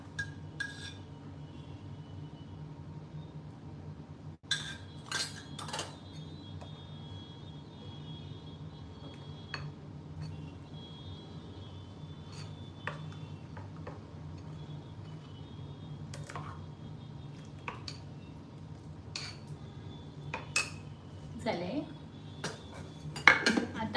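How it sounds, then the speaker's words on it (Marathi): A spoon clinks and scrapes against a bowl as dosa batter with baking soda is stirred, giving scattered light metallic taps over a quiet kitchen background. "आता त्याला ढवळायचं यामध्ये थोडंसं तेल घालायचं"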